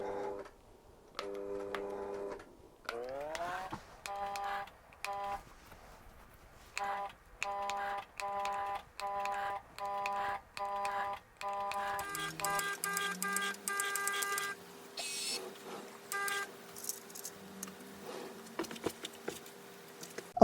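A long-arm quilting machine basting stitches across a quilt top, a rapid mechanical patter of needle strokes running in repeated bursts with short pauses between, close and steady, with no talking.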